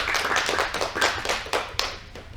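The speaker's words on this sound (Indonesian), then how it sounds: "Beri aplaus untuk kelompok 2." Scattered hand claps from a small classroom group applauding a student team, irregular and fairly close, without talk over them.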